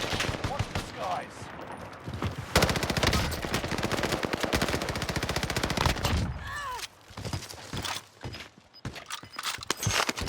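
Type 100 SMG in Warzone Pacific firing long, rapid automatic bursts, loud and dense, with a short gap and more scattered shots near the end; game voices and effects sit underneath.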